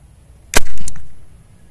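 A single sharp, loud crack from a PVC snapan air rifle, with a short bright decaying tail afterward, close and alone without talk.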